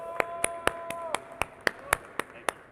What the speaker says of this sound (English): Please give him an applause to Sam Baternally.